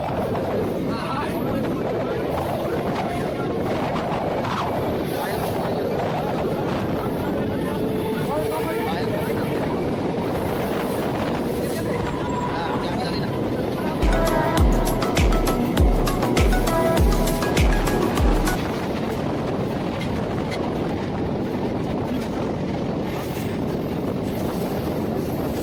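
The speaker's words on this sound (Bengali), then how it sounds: "আমরা এখন জনাই রোড স্টেশন ঢুকছি।" A local train on the Howrah–Bardhaman chord line pulling into Jonai Road station, a continuous rumbling roar with a run of rhythmic wheel clacks over rail joints midway, heard under ongoing talk.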